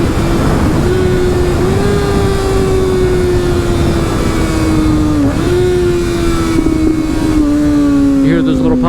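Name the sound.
Kawasaki ZX6R with LeoVince LV One EVO exhaust rev matching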